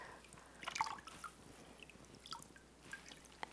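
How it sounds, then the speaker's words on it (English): Water drains from a squeezed, soaked knitted poncho in a few faint, sporadic drips and trickles, heard alone at low volume. "Let that water drain out."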